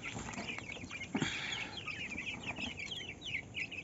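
Chickens cluck and chatter in a lively cluster, with one louder squawk partway through, close by and without speech.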